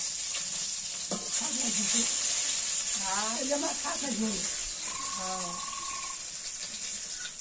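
Fish fries in hot oil with a steady, hissing sizzle running throughout, while a voice talks over it in the middle.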